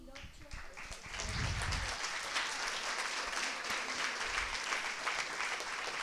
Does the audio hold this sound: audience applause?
yes